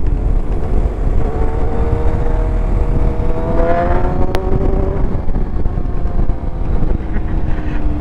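A big motorcycle engine revs hard for a wheelie, a loud continuous roar with rising harmonic sweeps as the throttle climbs midway, then settling back under steady wind rush throughout.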